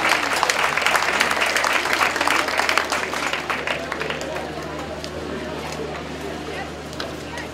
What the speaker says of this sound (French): Applaudissements pour nos champions.